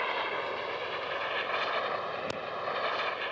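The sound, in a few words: jump plane aircraft engine flying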